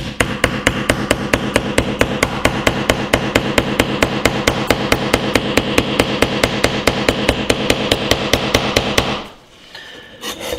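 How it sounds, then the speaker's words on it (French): Rapid, steady hammer blows drive a small nail into a wooden board using a Vkworld VK700X smartphone as the hammer, roughly four sharp knocks per second, loud and close, stopping just before the end. "on va tester tout de suite ce plantage de clous"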